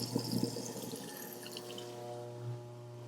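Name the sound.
water running from faucet into sink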